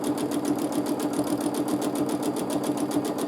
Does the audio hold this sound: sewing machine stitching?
yes